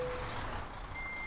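A heavy truck in Euro Truck Simulator 2 backs into a parking spot. Its reversing alarm beeps as a steady tone over a low engine rumble. The pitch jumps higher partway through.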